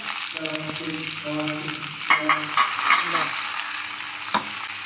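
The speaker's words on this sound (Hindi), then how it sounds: "प्याज को 2 से 3 मिनट मुझे हो गया तलते हुए" Finely chopped onion fries with cumin in a pan for a bhindi masala, a gentle sizzle broken by a few stirring scrapes, with faint tonal background noise over it.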